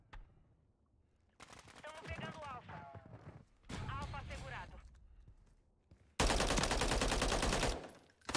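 Rapid bursts of automatic gunfire in Call of Duty: Modern Warfare 3, with a loud sustained volley near the end; short shouted Portuguese voices break in between the shots.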